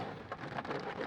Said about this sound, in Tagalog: Malakas yung ulan. Ngayon lumakas, ganito kalakas.